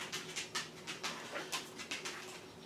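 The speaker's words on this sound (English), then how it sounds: "That's my dog coming out here." A dog's quick, rhythmic breathy bursts, like close panting, repeat steadily for a few seconds with no talking.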